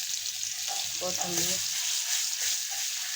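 Ginger, garlic and coconut paste sizzles steadily in hot oil in a wok, a continuous crackling hiss with a few words spoken over it.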